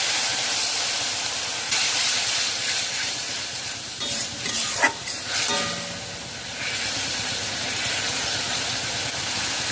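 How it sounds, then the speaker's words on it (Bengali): Frying masala hit with a splash of water gives a steady close hiss of sizzling and steam that surges briefly mid-way with a few stirring clatters, then settles back to a constant sizzle. "মশলা কষানোর জন্য সামান্য পরিমাণ একটু জল দিয়ে দেবো"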